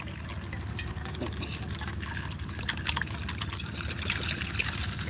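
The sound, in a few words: water poured from a bottle into a dish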